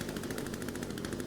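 Rapid, dense gunfire from a flintlock pistol in the survival video game The Forest, loud and continuous with no voices over it.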